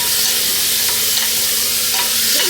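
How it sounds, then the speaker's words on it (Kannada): Carrot, beans, peas and potato fry in hot oil, giving a steady, close sizzle with occasional stirring scrapes throughout. "ಈ ರೀತಿ ಚಂದವಾಗಿ ಫ್ರೈ ಮಾಡ್ಕೊಳ್ಳೋಣ"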